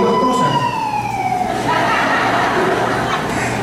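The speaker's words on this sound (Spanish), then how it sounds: "Dos cosas hacen ese sonido de la sirena." An emergency vehicle siren wails loud and close, its tone sweeping downward and then holding steady over a rumbling street background.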